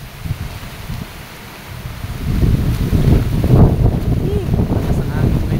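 Strong wind blows hard, strong enough to topple a tree, and buffets the microphone with low rumbling gusts that grow louder and more turbulent partway through and stay steady to the end.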